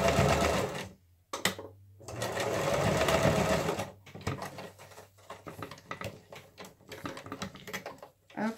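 A sewing machine stitches in two steady bursts, then gives way to short, irregular clicks and taps as the machine stops and starts.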